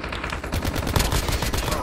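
Rapid automatic gunfire in the shooter game Call of Duty Mobile, a dense burst of sharp repeated shots close and loud throughout.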